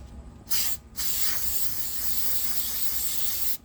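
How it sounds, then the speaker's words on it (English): Cleaner sprayed onto an HWH RV leveling jack and into its wear collar, heard as a short hissing burst followed by a longer, steady spray lasting a few seconds, close up with no talking. "Just spray that and go inside of that wear collar too"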